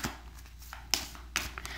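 Tarot cards are shuffled by hand in a few soft papery riffles and taps, with two sharper snaps standing out against a quiet room.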